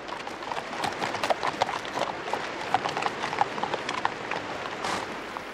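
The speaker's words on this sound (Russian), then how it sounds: "Какой отличный конь." Horse hooves clip-clop at a brisk, uneven pace on the ground in a 1968 Soviet–East German western, a steady run of sharp knocks at moderate distance with no voices.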